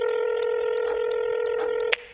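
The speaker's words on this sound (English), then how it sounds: "I tapped the screen and punched in the phone number." A phone number is tapped into a touchscreen phone: a steady run of dialing tones with brief key pulses, ending abruptly in a short higher beep, close and clear.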